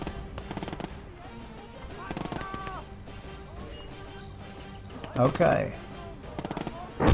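An 88 gun firing in the war game Legion of the Damned, with heavy booming shots arriving in a few separate bursts over rumbling battle noise, and someone talking between them.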